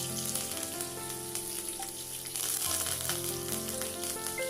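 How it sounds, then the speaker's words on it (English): Green chilies, red chilies and curry leaves sizzle and fry in hot oil for masala dosa, a dense, steady crackling close up, swelling briefly as ingredients are stirred. "And in goes the green chilies, add according to your taste, and 2 red chilies for the flavor."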